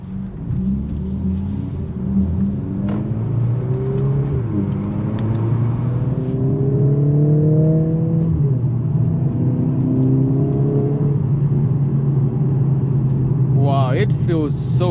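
A 2025 Mercedes-AMG CLA 45 S Coupe with its 416 hp engine accelerating, a loud rising engine whir climbing through several gear-shift sweeps under steady road rumble, with someone talking over it.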